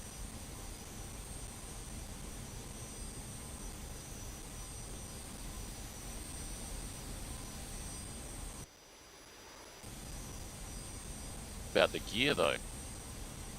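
An F-86 Sabre jet in a flight video game drones with a continuous engine roar that dips briefly, while someone talks over it near the end.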